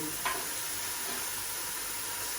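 Fresh spinach dropped into a hot, dry frying pan, giving a steady, even sizzle and hiss throughout, with one faint clink near the start.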